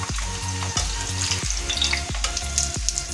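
A paratha fries in a pan with a constant loud sizzle, broken by regular scraping or pressing strokes about every two-thirds of a second.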